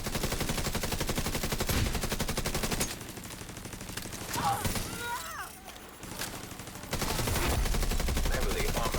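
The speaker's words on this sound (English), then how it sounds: "Let's get the turret firing as well." A turret fires in a video game, with rapid machine-gun bursts in fast rhythmic volleys. The shooting pauses in the middle while faint game sounds and some talk carry on, then resumes loudly.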